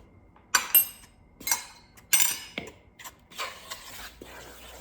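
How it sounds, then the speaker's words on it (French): Keto bread ingredients of erythritol, xanthan gum and salt being stirred in a glass bowl, with a series of sharp clinks and scrapes in irregular bursts, close and clear. "on mélange bien tout ça"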